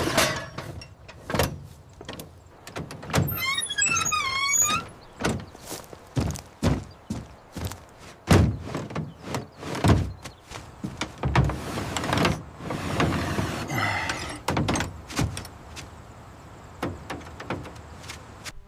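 Someone climbs into an abandoned bus through the driver's side door, making a run of clunks, thuds, metallic knocks and door rattles, with footsteps and a brief squeaky creak partway through, all close and without talk.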